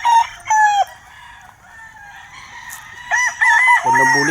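A grey gamecock crows in short, close bursts, with a pause before it crows again, loud and alone.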